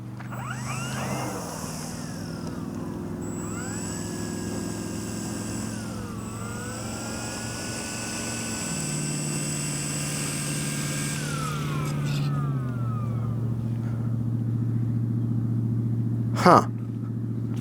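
An H-King Yak-11 RC model airplane flies overhead with its electric motor whining steadily, the pitch rising and falling as it passes, audible over a constant rumble, followed near the end by a sharp brief knock.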